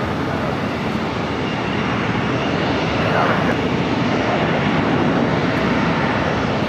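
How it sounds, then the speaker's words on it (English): A LOT Polish Boeing 787 Dreamliner departing Los Angeles LAX for Warsaw, its jet engines a loud, continuous broadband roar that swells slightly midway, with voices over it. "That's a LOT Polish Dreamliner heading back to Warsaw."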